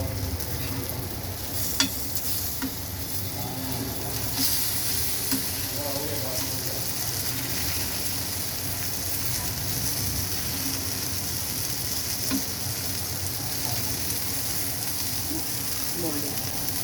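Bombil (Bombay duck) fish frying in a pan, a steady close hiss of oil sizzling throughout with occasional soft pops and faint background sounds.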